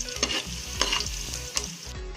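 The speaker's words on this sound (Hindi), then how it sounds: "टोटल हमें 2 मिनट लगे हैं इसे फ्राई करते हुए" Food sizzling and frying in a pan for Arabian rice while being stirred, a steady close hiss with light scraping stir strokes and no voices.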